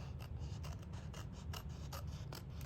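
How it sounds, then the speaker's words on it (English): Scissors cutting a corner off a piece of paper craft material: a faint run of quick, regular snipping rasps, about eight cuts in a steady rhythm with no talk. "We're gonna take the scissors and cut there, cut this whole corner piece off."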